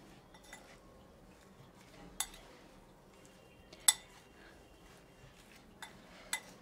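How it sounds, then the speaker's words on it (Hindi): A spoon mixes green chilli pickle in a metal bowl, giving a few sparse, sharp clinks of metal against the dish over quiet background, with no talking. "और अच्छे तरीके से मिक्स कर लेंगे मिर्चों में।"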